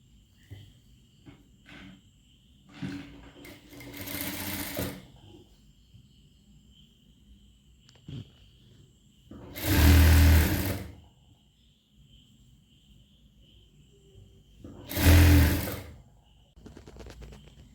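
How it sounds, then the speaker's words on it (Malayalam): A sewing machine stitches a folded hem on children's pants in three short bursts of rapid mechanical whirring, each a second or two long, with quiet pauses and light handling sounds between them. "ഇനി ഇതിൻ്റെ താഴ്ഭാഗം നമുക്ക് ചെറുതായിട്ടൊന്ന് മടക്കി അടിച്ചു കൊടുക്കാം."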